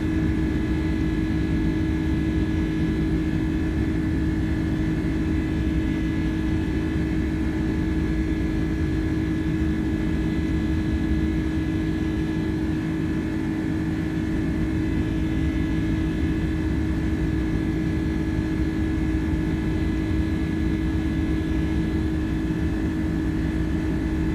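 An Airbus A310 in American Airlines livery climbs out of JFK in Microsoft Flight Simulator, its jet engines giving a steady, loud drone with low rumble and a faint high whine, unbroken and with no talking.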